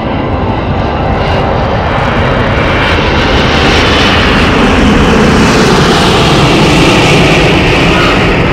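An Iberia airliner lands at an airport, its jet engines producing a loud, continuous broadband roar that holds steady and close throughout, with no voices.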